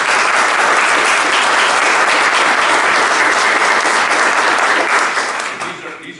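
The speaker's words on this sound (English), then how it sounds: "You deserve a round of applause." Loud, sustained round of applause from people at a city council meeting in North Canton, a dense steady clatter of many hands that thins and fades over the last second.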